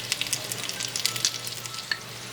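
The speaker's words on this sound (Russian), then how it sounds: "Минутки 4-5 прожариваем на среднем огне." Manti filled with meat and pumpkin fry in oil in a thick-walled non-stick pan over medium heat, giving a steady close sizzle with scattered sharp pops and crackles and no talk.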